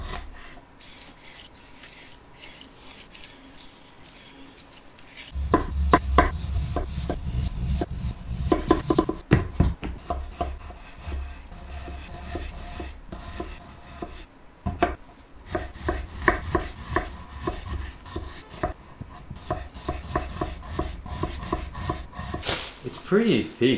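Steady knife chopping on a cutting board while preparing Korean bossam, with rapid repeated close strokes that grow denser partway through. Light rubbing and handling noises sit between the cuts.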